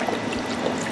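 Chicken broth and water pour steadily into a cooking pot for Southern-style green beans, a continuous close splashing gurgle with no pauses.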